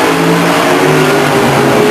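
Race cars racing at Stockton 99 Speedway in 1999 produce a loud, continuous engine roar as they accelerate out of a turn, steady and close.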